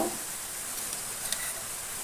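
Onions frying in a pan, a steady close hiss of sizzling oil that carries on evenly, with a faint clink near the middle.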